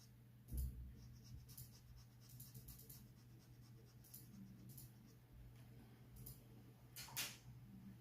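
A single graphite pencil shades a dark tone on paper, making a very faint, close scratching with soft strokes and a few slightly louder taps, quiet and without talking.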